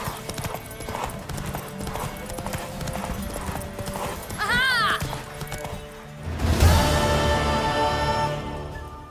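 Hooves of a galloping mare clatter in a fast, steady rhythm during a race scene in a fantasy drama, with a whinny partway through, then a louder rush of crashing sound takes over near the end.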